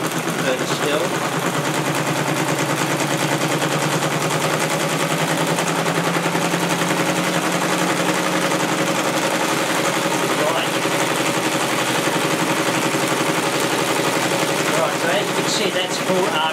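A small radial four-piston magnet engine runs at full RPM, giving a fast, continuous rattling whir with a steady droning hum that holds at a constant pitch.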